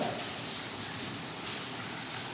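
Steady rain falling during an outdoor village meeting in Ankoli, Mohol, Solapur district, a dense continuous hiss with no breaks, fairly close and even throughout, with no voices over it.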